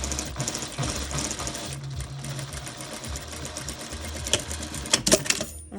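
A domestic sewing machine stitching a cloth face mask liner runs in a loud, steady rapid chatter for several seconds, with a couple of brief clicks and clunks near the end.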